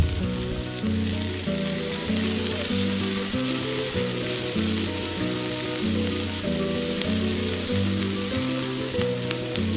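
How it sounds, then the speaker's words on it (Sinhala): Tomatoes stirred into devilled cuttlefish frying in a pan, a loud, steady sizzle with soft scraping of the stirring utensil, alongside a constant background hum and repeating music. "තක්කලි එකතු කරලා හොඳින් කලවම් කරගමු."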